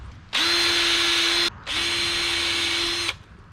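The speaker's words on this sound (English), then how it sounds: "And I'm going to pre-drill these." A power drill whirring at steady speed in two long bursts, pre-drilling holes about an inch deep in an Emco 400 Series storm door, separated by a brief pause, close and loud.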